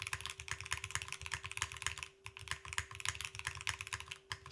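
Rapid typing on a Class65 mechanical keyboard fitted with force break, a dense run of crisp clacks with a brief pause midway, close and steady.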